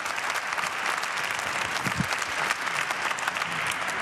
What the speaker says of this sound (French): je vous demande d'applaudir s'il vous plaît Paul-Hervé Vintroux